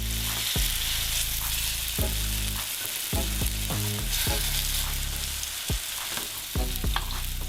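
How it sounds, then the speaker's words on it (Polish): Chickpea tofu fries steadily in oil in a pan, a loud, continuous sizzle broken by repeated scraping and stirring knocks, close up and with no voices. "Trzeba uważać, bo tofu lubi przywierać do patelni, jak jest na niej za mało oleju."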